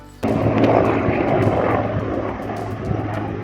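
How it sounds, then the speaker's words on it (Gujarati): Helicopter passing low over a farm field, its rotor and engine roar starting abruptly and holding loud and steady, fading slightly toward the end. "ત્યાં તો ત્યાંથી હેલિકોપ્ટર નીકળ્યું."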